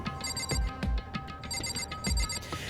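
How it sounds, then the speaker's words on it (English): A doorbell chime in the Danganronpa video game rings in two repeating electronic bursts over faint game sounds, with no talking. "did I hear the doorbell?"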